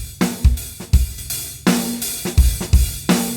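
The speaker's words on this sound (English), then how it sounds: "If I take that out, we just hear the drums on their own." Uncompressed drums play alone in a steady groove, with punchy kick and snare hits and cymbals ringing over them, clear and close with natural dynamics.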